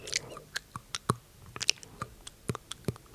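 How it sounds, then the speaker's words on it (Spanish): Hamburger being bitten and chewed up close, a string of crisp, wet crunches and smacks in an irregular rhythm, quiet and intimate with no talk. "vamos a empezar dándole un mordisco"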